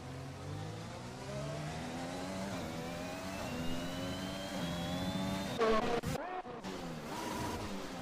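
An AlphaTauri Formula 1 car in the F1 2021 racing game revs up through the gears with a rising, buzzing engine whine, sustained and fairly close throughout.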